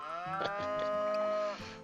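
A cow in a Harvest Moon-style farming video game gives one long, clear, tonal moo that rises and then holds steady, heard alone and close.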